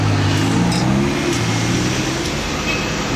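A McLaren GT engine runs loud and close, holding a steady low rumble with a slight lift in pitch, with no voices over it.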